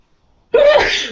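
A single loud, close sneeze bursts out abruptly after near silence, its sharp onset trailing into a breathy noisy tail.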